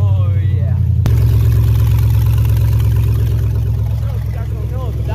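A pickup truck's engine idles loud and steady through its old exhaust, a deep continuous rumble following a sudden start-up, with someone talking briefly over it.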